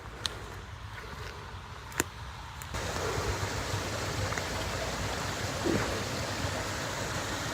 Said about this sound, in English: I can hear a little waterfall or something